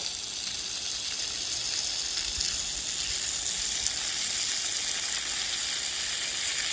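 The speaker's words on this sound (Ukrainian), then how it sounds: "Насичую дуже добре водою землю" Steady broadband hiss of water pouring and soaking into soil for lavender cuttings, continuous and close, with no talking.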